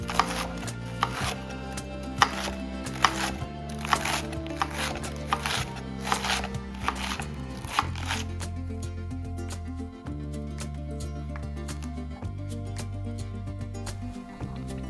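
A knife dices tomatoes and shreds lettuce on a cutting board, a steady run of sharp chopping taps close up, playing over continuous background music without speech.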